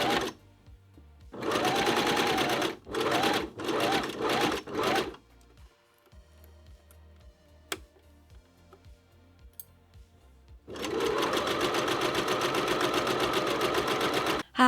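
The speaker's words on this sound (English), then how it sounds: "we are going to sew around there" A sewing machine stitching a 1970s-style suit runs in loud, rapid bursts: a long run, several short stops and starts, a quiet pause with small handling clicks, then another long continuous run.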